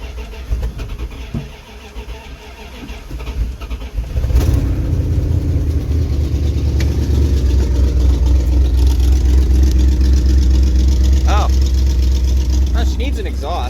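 A straight-piped Dodge Ramcharger engine starting up after some quiet shuffling, then idling with a loud, deep, steady rumble; a voice speaks briefly.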